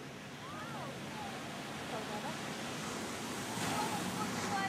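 Ocean waves wash onto a beach in Barbados, a steady broad surf rush with some wind noise, while people talk faintly nearby.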